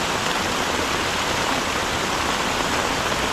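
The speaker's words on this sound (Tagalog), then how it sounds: "Malakas ng ulan. Malakas na. Hindi na yan ambon." Heavy rain pours down in a steady, dense roar, loud and unbroken throughout, with no voices.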